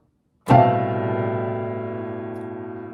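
A single rich piano chord struck firmly, ringing out full and sustained as it slowly decays, with no other sound.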